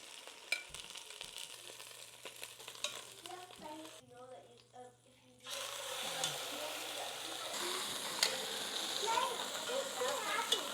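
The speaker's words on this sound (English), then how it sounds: "Just gonna sear these parts for a hot second." Chicken sizzles and crackles in a hot pot, dropping quieter briefly before a louder burst of frying resumes, with faint stirring clatter.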